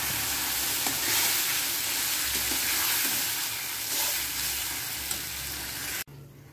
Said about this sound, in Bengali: এখন মশলাটা দিয়ে কষিয়ে নেব।